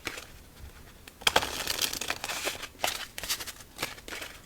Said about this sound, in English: let's shuffle up our deck